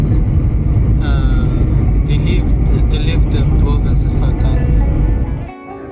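An airplane takes off from Kabul, its loud, steady engine roar filling the cabin for several seconds before abruptly dropping away near the end, with faint voices talking underneath.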